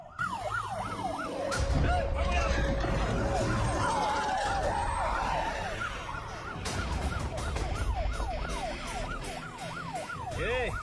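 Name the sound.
ambulance siren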